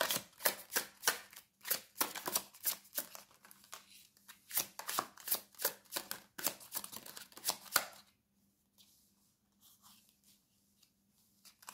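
Tarot cards are shuffled during a reading in a rapid run of crisp riffling snaps for about eight seconds, close and clear, then a few faint soft rustles in near quiet.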